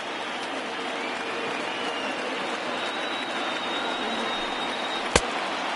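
A steady, dense roar from a large baseball crowd cheering in a simulated MLB video game, Boston Red Sox at Toronto Blue Jays, holds level throughout with one sharp click near the end.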